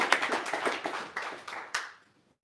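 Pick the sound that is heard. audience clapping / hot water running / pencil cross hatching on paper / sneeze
audience clapping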